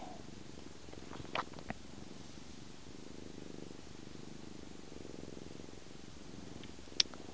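A farm working cat purrs steadily and quietly up close while being massaged, a soft continuous rumble with a couple of faint brief clicks and no talking.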